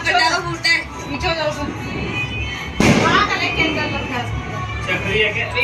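Diwali firecrackers and fireworks bursting outdoors during a family celebration, with a loud sharp blast near the middle over a continuous crackle of distant explosions and a background of chattering voices.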